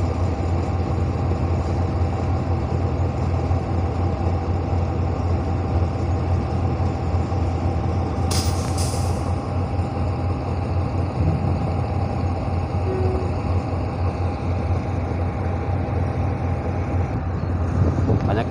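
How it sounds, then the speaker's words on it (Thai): Steady low rumble of a local train idling at Surat Thani railway station, Thailand, a continuous engine drone with a brief hiss partway through, no talking. "พามาชมรถไฟที่สถานีรถไฟสุราษฎร์ธานีนะครับ"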